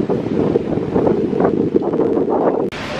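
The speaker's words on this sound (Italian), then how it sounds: "C'è un vento fortissimo in questo momento, quindi non so se mi sentite" Strong gusts in a city square being decorated with flags for Pride buffet the microphone with a loud, steady low roar that cuts off abruptly near the end.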